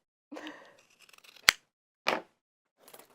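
Scissors trim the ends of sewn-on straps with a few sharp snips and crisp cuts, close and fairly quiet, set apart by short pauses, with faint rustling of fabric between them.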